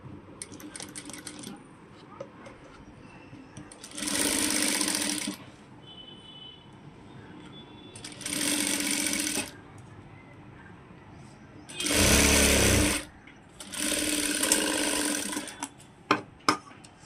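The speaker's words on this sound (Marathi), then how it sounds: "तर आता गळ्याला आपण शिलाई करून घेतली, कवर शिलाई." A sewing machine runs a cover stitch around the neckline of a size 28 princess-cut blouse in four separate whirring bursts, each lasting one to two seconds, with quiet pauses and faint handling noises between them.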